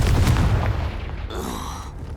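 A Confringo explosive spell blast in the video game Hogwarts Legacy, a heavy booming burst at the start that rumbles and fades, with a brief whooshing tail after it.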